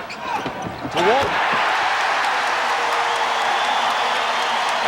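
A packed arena crowd roars steadily at a 1986 playoff basketball game between the Boston Celtics and Chicago Bulls as the Celtics come back. After a brief voice and scattered sounds at the start, the roar stays loud and sustained to the end.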